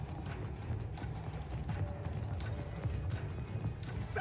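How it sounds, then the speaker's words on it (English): Footsteps from behind the player in a horror video game, a soft continuous patter of steps at low level with a muffled, hoof-like clopping quality and no voice over them. "I hear the footsteps behind me."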